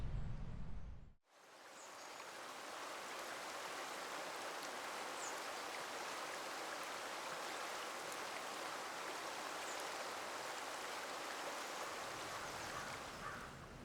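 A creek runs through a forest, its steady broadband rushing and babbling continuing without a break after a brief quiet opening, with no voices over it.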